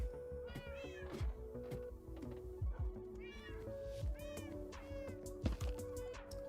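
A cat in the Minecraft video game meows several times in a row, its calls clear and fairly close over steady background game music.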